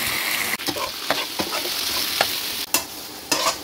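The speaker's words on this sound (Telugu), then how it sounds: "ఈ విధంగా ఫ్లిప్ చేసుకుంటూ బాగా ఫ్రై చేసుకోండి ఒక 15 minutes వరకు." Chicken leg pieces fry steadily in hot oil in a pan, a continuous close sizzle broken by a few sharp scrapes and clacks as the pieces are flipped.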